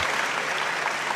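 Guests at a wedding banquet give the entering bride and groom steady, thick applause, many hands clapping together at an even loudness throughout.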